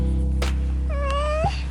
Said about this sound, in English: It's a he kitty, a Tom kitty.